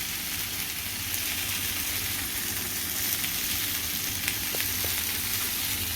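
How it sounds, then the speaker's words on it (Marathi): Paneer tikka pieces fry on all sides in a pan, a continuous dense sizzle and crackle close by, loud and steady with no voices. "आपलं पनीर टिक्का चारी बाजूने चांगले फ्राय करून झालेले आहेत"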